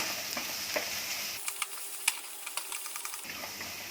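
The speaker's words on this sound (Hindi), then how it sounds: "अब इसे अच्छे से मिक्स कर लेंगे" A spoon stirring masala for black-eyed bean curry in a hot frying pan, with scraping strokes and light clinks over a soft sizzle, close up.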